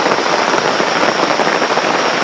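Heavy rain pours down steadily near a creek in the forest, a dense, close hiss of drops hitting surfaces with no pauses and no talking.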